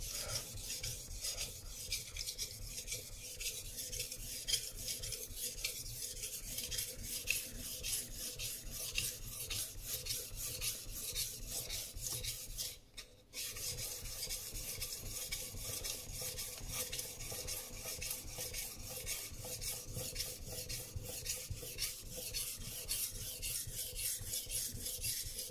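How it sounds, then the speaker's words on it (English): Global knife blade scraped back and forth along a whetstone, a continuous rasping grind with a steady rapid rhythm, close and fairly loud, broken by a brief pause near the middle. "So stone does the sharpening, all you need is just a little bit passion and make it even from the tip to the handle."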